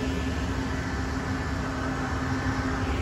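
Inside the cab of a big farm tractor at harvest, the engine runs in a steady loud drone with a constant low hum and no change in pitch. No one speaks.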